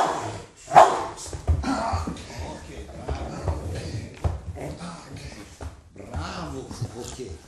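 A Rottweiler gives a single loud bark near the start, then someone talks at length over faint shuffling and handling noises.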